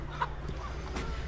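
A wild hen clucks close by in an outdoor setting among grass, a couple of short throaty clucks over a low background rumble, brief and with no talking.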